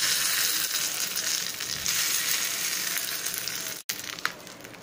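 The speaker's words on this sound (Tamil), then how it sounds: "கடுகு நல்லா பொரியட்டும்" Mustard seeds and curry leaves splutter and crackle in hot oil while tempering for an urad dal and tomato chutney, a dense continuous sizzle close up with one brief gap near the end.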